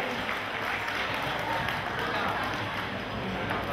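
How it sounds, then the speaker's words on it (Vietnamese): Audience applause for an association's sponsors: a steady, dense wash of clapping from a crowd, sustained evenly and moderately loud throughout. "dành một tràng pháo tay cho các mạnh thường quân"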